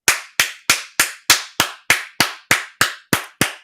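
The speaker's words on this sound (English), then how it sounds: "Why am I clapping?" Twelve sharp hand claps land in a slow, perfectly even rhythm, each one crisp, loud and close, with brief silence between them and no voices.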